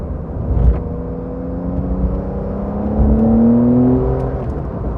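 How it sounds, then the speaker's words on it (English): A 2020 Porsche 911 Carrera 4S in manual mode and Sport Plus, heard from inside the cabin: the engine drones, then its pitch climbs and falls in quick throttle blips on downshifts. "You've got blipping of the throttle on the downshifts."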